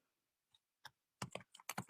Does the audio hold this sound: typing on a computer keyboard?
yes